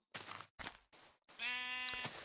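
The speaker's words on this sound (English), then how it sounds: "Oh, black sheep. Come to daddy. I want your wool." A black sheep in a video game bleats in a drawn-out, quavering cry near the end, preceded by several shorter bursts of similar sound, with no talk over it.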